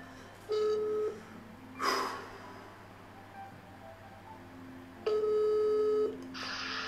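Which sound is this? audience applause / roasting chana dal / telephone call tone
telephone call tone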